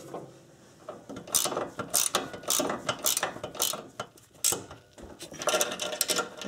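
A ratchet clicks in short repeated bursts while tightening the bolt on a new stabilizer link on a Subaru with an EJ25 engine, up close and with no talking.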